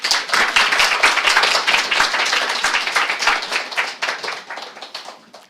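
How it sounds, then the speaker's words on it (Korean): A church congregation at a Sunday service claps vigorously to welcome a visiting pastor, a dense, close burst of many hands that gradually thins and fades toward the end. "우리 박수 한번 할까요?"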